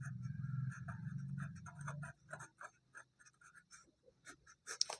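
A marker or chalk is writing out a maths solution on a board in a class lesson, making a series of short, faint scratchy strokes and taps that come after a low hum fades out.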